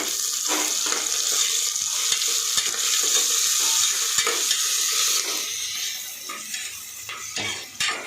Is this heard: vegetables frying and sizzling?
yes